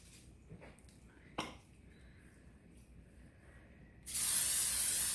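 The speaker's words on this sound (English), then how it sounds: "let's spray our pan." Cooking spray hisses onto a pan for an air fryer lasagna, a loud, steady spray burst arriving near the end after quiet kitchen sounds and a single small knock.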